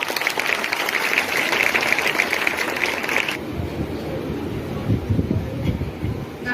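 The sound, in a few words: applause for a speaker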